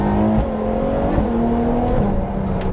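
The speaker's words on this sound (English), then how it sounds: "Listen to the way this goes down the box." A Ferrari F12 TDF engine revs close by as it shifts down through the gears, its sustained tone stepping between pitches with each change and a loud, continuous roar throughout.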